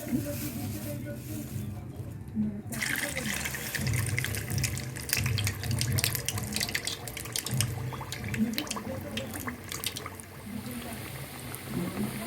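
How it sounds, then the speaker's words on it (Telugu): Semolina (Bombay rava) vada batter drops into hot frying oil, setting off a dense, continuous close-up crackle and bubbling that persists for several seconds under a low background hum. "ఆయిల్ హీట్ అయిందండి వేసుకుందాము"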